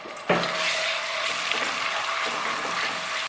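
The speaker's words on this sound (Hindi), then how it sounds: "लहसुन अदरक डाल के ना हमने इसको भी भूनना है थोड़ा सा।" Garlic and ginger drop into hot oil, where onions were just fried, with a sudden burst of sizzling that settles into a steady, close, loud frying hiss.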